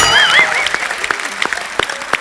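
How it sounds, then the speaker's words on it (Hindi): Studio audience on a comedy talk show applauds the full star cast of the film Begum Jaan; a brief burst of clapping that thins into scattered claps, with a voice briefly audible at the start. "एक बार बेगम जान की पूरी स्टार कास्ट के लिए जोरदार तालियां।"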